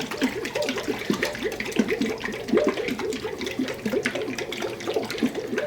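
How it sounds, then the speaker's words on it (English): Rhythmic sloshing and rattling as vinaigrette dressing is shaken in a tightly lidded jar, a quick repeated back-and-forth liquid churn heard close and alone. "instead of whisking it or stirring it, we're just going to shake it up"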